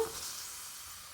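Puri sizzles in hot oil as it fries, a soft steady hiss that fades slightly over a brief moment, heard alone without talk.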